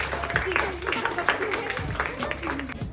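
Steady applause from an audience at a certificate day event, clapping close in the room and running under a talking voice.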